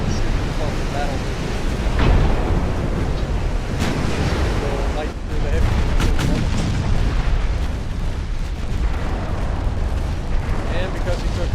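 Naval guns boom across a roaring, wind-blown sea battle in a naval war strategy game, with heavy rumbling blasts and surf-like noise running continuously throughout.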